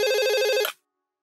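A telephone rings with a loud, steady electronic trill that cuts off abruptly after under a second, leaving silence.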